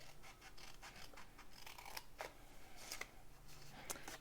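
Scissors cut through scored paper in a quiet room, with a few soft, close snips and light paper rustling and no talking.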